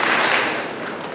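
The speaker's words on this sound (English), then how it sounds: "If you can hear me, clap 2 times." Audience applause at an indoor school presentation, a short wash of dense, fairly loud clapping from many hands with no distinct individual claps.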